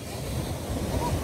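Ocean surf washing onto a beach, a steady broadband rush of waves with some wind noise, continuous and fairly close.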